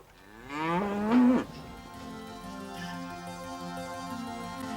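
Cattle mooing: one long, loud, drawn-out moo rising near the start, followed by a quieter sustained lowing tail, with no talk.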